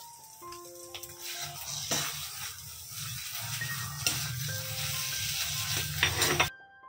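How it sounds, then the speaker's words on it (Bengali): Coriander leaves and dried chillies are stirred into a flat-bean mash in a pan, giving a steady scraping and gentle sizzle with repeated clinks of the spoon against the pan. "এবারে আমি ধনেপাতা আর শুকনো লঙ্কা মিশিয়ে দেব।"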